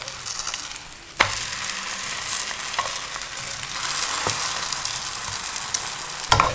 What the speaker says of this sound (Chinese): 两边都要煎吗？